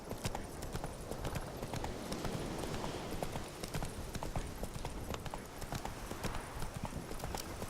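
Roach the horse clip-clops steadily in the video game Witcher 3, a close and constant rhythm of hoofbeats over game ambience with no one talking.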